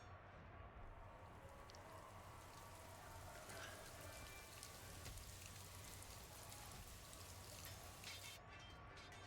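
Rain falls in a video game, a faint, steady hiss of drops pattering on surfaces that continues evenly throughout without voices.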